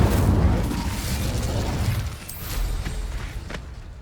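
Incendio fire spell cast in Hogwarts Legacy: a loud whooshing burst of flame with a rumbling low roar that fades after two seconds into crackling, scattered pops.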